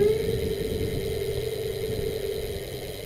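Ancheer electric mountain bike hub motor whirs steadily as the throttle is twisted, a close, even electric hum with faint mechanical vibration and no talking.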